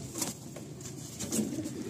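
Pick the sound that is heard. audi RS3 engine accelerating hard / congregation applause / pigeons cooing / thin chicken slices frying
pigeons cooing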